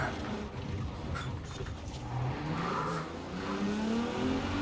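Racing car engines in Forza Horizon 4 hum and rev steadily at moderate volume, pitch rising as they accelerate, with a faint tire squeal.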